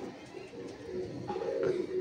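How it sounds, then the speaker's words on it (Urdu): Pigeons of the Heera Lal breed, kept in Lahore, Pakistan, coo softly and steadily in low warbling rolls, with light rustling and faint background noise. "ساری ایک ہی کیٹاگری کا کبوتر ہیں, بن جوڑ کے یہ کبوتر ہیں."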